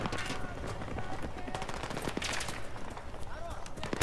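Battlefield 3 gunfire rattles continuously in a busy battlefield mix, with automatic bursts and scattered shots layered under steady background noise and occasional voice.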